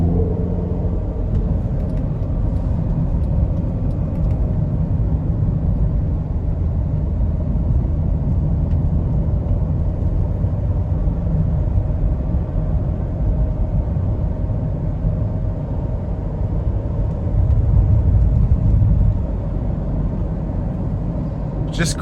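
Engine of a 2015 Ferrari California T being manually shifted while driving: a steady, muffled low rumble heard from inside the cabin, swelling briefly louder near the end as revs rise.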